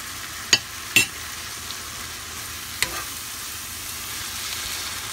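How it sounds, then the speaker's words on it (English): Anaheim chile, onions and tomatoes frying in a pan, a soft steady sizzle with a few sharp clicks of utensils against the pan near the start. "I'm just going to let it fry a little bit."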